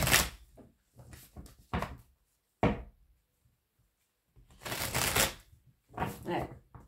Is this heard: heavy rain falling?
no